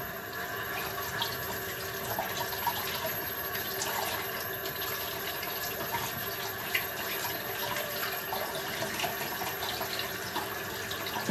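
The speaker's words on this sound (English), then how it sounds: "And then I'm going to wash my asparagus." A kitchen faucet runs steadily while asparagus is washed in the sink, a constant close hiss of flowing water that continues without a break and without speech.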